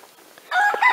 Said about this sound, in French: Comme vient de vous le dire également ce coq.